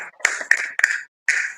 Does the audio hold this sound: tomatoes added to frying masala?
no